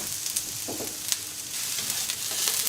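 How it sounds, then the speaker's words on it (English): Large pieces of ginger and garlic and about half a cup of onions caramelizing in hot oil in a pan, giving a continuous close sizzle with a few soft stirring scrapes, and no voices. "So I'll just caramelize the onions, the garlic, and the ginger"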